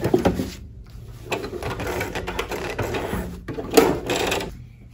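A sewing machine backstitches a seam on a blouse, close and moderately loud. It stitches in short whirring bursts separated by brief pauses and clicks as the stitching reverses.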